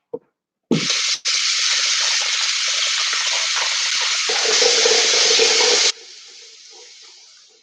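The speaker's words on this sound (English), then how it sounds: "let me rinse my fork off" Water gushes loudly from a tap for several seconds as a fork is rinsed, with a short gap near the start, then the flow cuts to a quieter trickling hiss.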